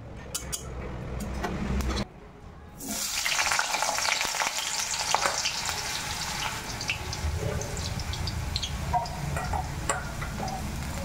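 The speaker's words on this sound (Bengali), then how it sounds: "আলুগুলো ভালোভাবে ভাজা হয়ে গেছে।" Potatoes fry in hot oil in a wok, a steady dense sizzle with bubbling crackle that dips briefly near the start, then resumes strong and continuous without talk.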